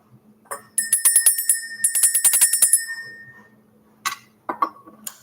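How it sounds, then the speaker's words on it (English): Small bell rung to clear the energy during an evening spiritual reading, two bright bursts of rapid ringing tones with a lingering shimmer, followed by a few lighter clinks, loud and close in a quiet room. "Let's ring the bell."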